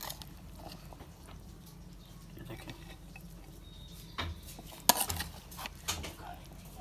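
Lobia chaat, a red kidney bean snack, being served out onto a dish, with soft scraping and light clinks of utensils against dishware, one sharper clink standing out near the end.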